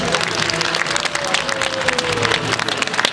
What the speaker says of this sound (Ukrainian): Оплески за відповідь.